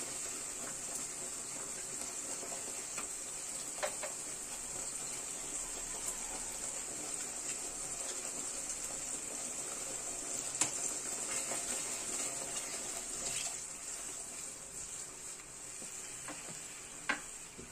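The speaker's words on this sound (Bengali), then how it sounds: "এবার দেবো সামান্য একটু জল" A pan sizzles steadily while katla fish curry cooks, and a little water is added to it, giving a constant bright frying hiss with faint stirring clicks and no talk.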